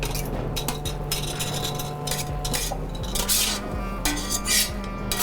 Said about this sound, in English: So at this point, you see just the sauce come together and we just add the beans.